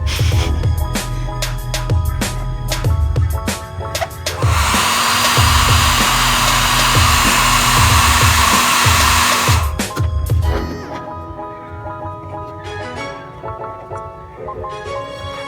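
Heat blower warming decal adhesive on a Mio i 125 scooter: a steady, loud, close whooshing hiss running for about five seconds amid clattering handling noises, then cutting off to quieter tapping and rustling.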